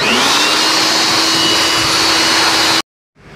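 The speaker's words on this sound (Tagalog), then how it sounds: "Blower lang." An electric air blower cleans the inside of a Sanyo CRT television during repair, a loud, steady, high-pitched whooshing roar close by that runs for nearly three seconds and then cuts off abruptly.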